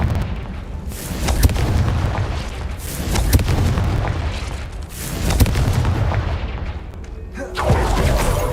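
Booming blasts from the Confringo spell in a Harry Potter video game, a series of loud, heavy explosions rolling one after another with rumbling tails.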